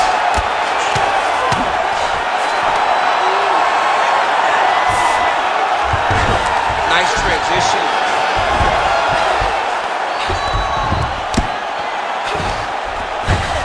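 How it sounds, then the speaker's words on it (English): Arena crowd noise from the EA Sports UFC 5 video game, a constant dense roar and cheering at a fight, loud throughout with scattered whoops and thuds, while a commentator talks over it. "huge pop from the crowd as she gets back to her feet."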